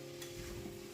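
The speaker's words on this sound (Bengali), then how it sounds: "মাংসটা ছেড়ে দেওয়ার পর বেশ কিছুক্ষণ সেটাকে নাড়তে থাকলাম।" Mutton pieces being stirred and fried in oil for mutton kosha give a brief, soft sizzle with the scrape of a spoon through the pan.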